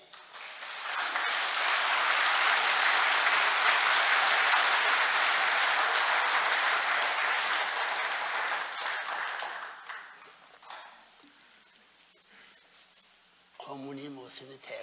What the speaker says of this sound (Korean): 알았으면 박수하지.